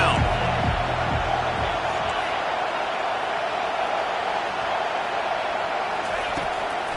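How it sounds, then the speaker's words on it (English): A football stadium crowd roars steadily as fans get behind the defense on third down, a dense, sustained wall of cheering noise with a few low thumps early on. "Decibels rising as the crowd gets behind this defense on 3rd down"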